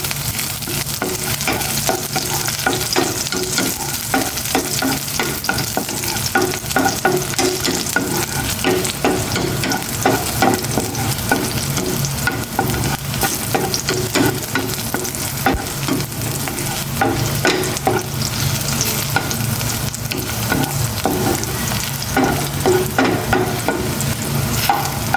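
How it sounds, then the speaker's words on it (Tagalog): Garlic sautéing in cooking oil in a wok for pork adobo, a loud continuous sizzle with constant stirring scrapes running steadily throughout, close and unbroken. "Igisa ko na tong bawang"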